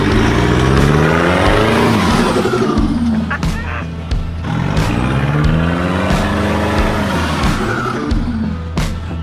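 A two-wheel drive car rolls along unsealed outback tracks, its engine note rising and falling steadily with tyre rumble and gravel noise throughout, loud and close.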